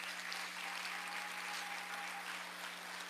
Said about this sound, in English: Would you please join me in giving them a big round of applause?